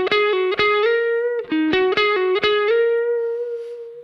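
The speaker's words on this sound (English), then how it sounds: "this creates this typical amp in the room sound" A clean electric guitar through a Kemper Profiler plays a quick single-note melodic phrase, notes picked crisply, the last note left ringing into a roomy amp-in-the-room reverb tail.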